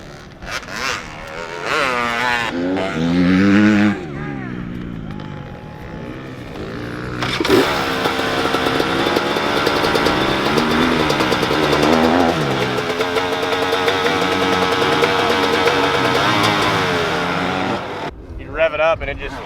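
A racing motorcycle at an Oldfield HBGP race-round revs hard, its loud engine whine rising and holding steady for several seconds, while people talk over it nearby.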